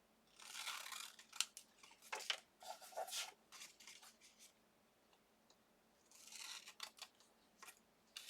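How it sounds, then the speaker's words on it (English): Scissors snip through paper in several quick bursts of crisp cuts, with short pauses between, close and quiet. "Scissors."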